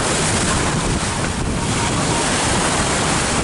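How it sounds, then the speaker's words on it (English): Strong wind buffets the microphone over crashing surf at a beach resort during a storm, a dense, loud, unbroken roar with no clear gaps throughout. "The wind has really picked up."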